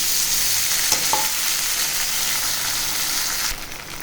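Crushed peanuts and soaked sabudana stirred in a hot pan, a steady broadband sizzle with a couple of brief scraping knocks near the start, fading slightly at the end; no talking.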